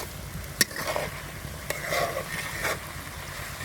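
Onion and garlic stirred and fried in hot oil while a jujube pickle is being made, with a steady sizzle broken by a few sharp clinks and scrapes of the spoon against the pan.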